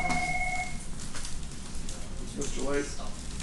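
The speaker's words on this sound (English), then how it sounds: "I got to answer the phone" A telephone ringing in a classroom, heard as a steady electronic two-tone ring for under a second at the start over a noisy room background, with voices following.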